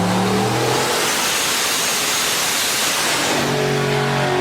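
The Glitch El Camino's boosted engine roaring on a dyno pull, a loud close sustained wail that rises in pitch and then cuts off abruptly at the end, with no talk.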